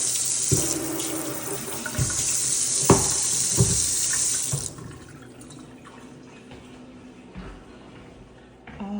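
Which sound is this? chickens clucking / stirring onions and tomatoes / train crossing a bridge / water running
water running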